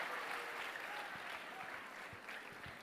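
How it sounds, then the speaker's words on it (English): Audience applause at the SSVM Transforming India 2025 conference, a fairly faint, even patter of many hands clapping that holds steady throughout with a few low thumps. "A round of applause for Vilas."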